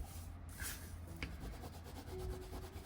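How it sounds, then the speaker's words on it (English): Soft, steady rubbing as fabric is pressed down onto a wooden earring piece over double-sided tape, a faint continuous scuffing with no voices. "Let me rub this down real good."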